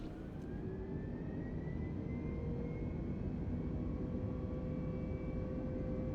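Airliner jet engines roar steadily on a takeoff roll in Microsoft Flight Simulator, a loud, continuous broadband rumble with faint rising whine tones and no talking.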